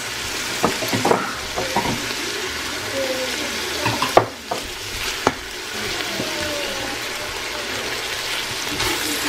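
Shredded potatoes and vegetables cooking in a pan, a steady low sizzle running throughout with a few scattered clinks and scrapes of a utensil stirring.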